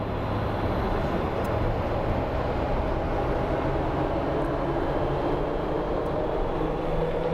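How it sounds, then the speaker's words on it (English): A jet airliner engine spooling up at Phoenix Sky Harbor airport gives a steady, loud roar with a broadband rumble that holds throughout, heard from outdoors without speech. "Look at that smoke coming out of that plane. The engine starting up."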